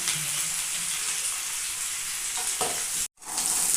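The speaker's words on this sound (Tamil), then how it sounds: "கடுகு போட்டுக்கோங்க வெங்காயம் போட்டுக்கோங்க வெங்காயம் வதங்கட்டும்" Onions sautéing in oil with mustard seeds, a steady close sizzle with a stir stroke near the end, cut by a brief silence before the sizzle resumes, no talk.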